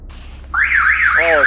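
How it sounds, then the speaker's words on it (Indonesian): A car alarm sounds nearby after a short silence, a loud rising-and-falling electronic siren warble that repeats, with a brief harsher buzzing pulse partway through. "alarm mobil nyala."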